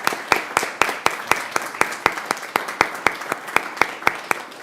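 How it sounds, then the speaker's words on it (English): Applause at a city council meeting after an award presentation, a steady run of sharp claps in a fairly even rhythm, moderately loud and close, with no talking over it. "Well, I think that deserves a big round of applause."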